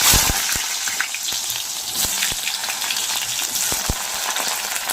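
Potatoes fry in hot oil, holding a loud, dense, continuous sizzle throughout, close by and punctuated by crisp crackling pops.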